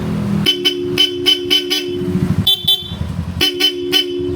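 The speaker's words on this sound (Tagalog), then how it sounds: "naka-Bosch Europa yan. Napaka-solid ng busina." A Bosch Europa horn fitted to a Yamaha Lexi 155 scooter honks in a run of short, loud, rapid toots, then a pause and another quick burst, close up over a running engine.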